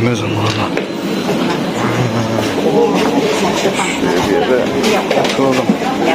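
Riding a train in Singapore: an onboard rumble with hums, whirs and soft mechanical clicks from the carriage, steady and fairly close, while people talk throughout.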